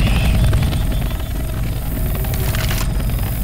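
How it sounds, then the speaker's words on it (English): A video game helicopter drones loud and steady as it flies overhead, its rotor noise thick and continuous with a rumbling low end throughout, and no talking over it. "Hey, we need to signal that chopper."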